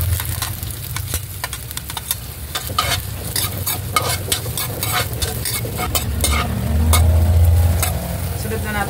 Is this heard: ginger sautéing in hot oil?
yes